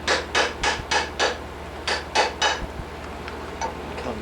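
A chisel being tapped to cut a groove for a fine silver inlay, sharp close knocks in two quick bursts of about five strikes each, followed by fainter scattered taps, with no talking.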